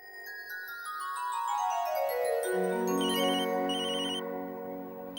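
A mobile phone rings with an incoming call from Karthik, a bright melodic ringtone that steps upward and then repeats a trilling phrase, loud and continuous with no talking.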